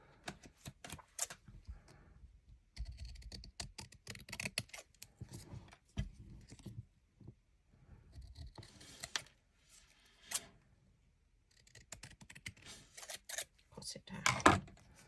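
Scissors snip through cardstock for a handmade card, a run of close, crisp cuts in uneven bursts with brief pauses and some paper rustling between them.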